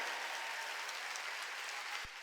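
A church congregation claps together at a Sunday worship service, a dense, even patter of many hands heard at a distance and fairly faint throughout.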